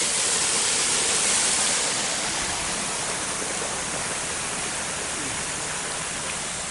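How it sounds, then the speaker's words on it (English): Water pours steadily down a flume at Fishpond Lake, a dense, even outdoor rush of falling water, loud and close, with no voices and no break in the flow. "That water falling down there to just about make you go to sleep."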